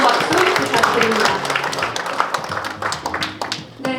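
Audience applause at a semiconductor industry policy seminar in Korea, continuous crowd clapping that gradually thins out, with talk over it.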